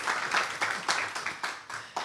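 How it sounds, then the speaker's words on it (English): An audience at a European summer school lecture applauds a physicist taking the stage, a warm round of clapping with distinct, rhythmic bursts of hands in a reverberant hall, moderate in loudness. "a warm applause for Elina."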